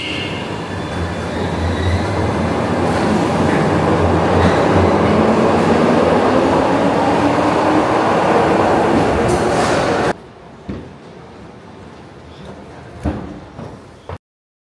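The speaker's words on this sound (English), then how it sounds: "I just got back to Ibrox subway station and that just pulled in." A Glasgow Subway train pulls into Ibrox station, a loud rumbling roar with a rising whine that cuts off abruptly, followed by quieter platform clatter and a few knocks.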